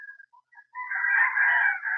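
A gamefowl rooster crows loud and close after a few short clucks, the call held strong and unbroken through the rest of the moment.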